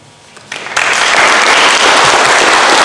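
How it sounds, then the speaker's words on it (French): An audience at a public meeting in a small theatre in Auray breaks into applause for candidates, starting with a few claps and swelling within a second into loud, dense, sustained clapping. "On peut applaudir les candidats"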